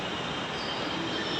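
Train at Bandongri Metro station in Kandivali East, Mumbai, a steady rolling rumble with faint wheel hiss, continuous and moderately distant, no talking.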